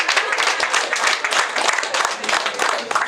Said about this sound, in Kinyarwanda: Murakoze cyane, amashyi menshi cyane.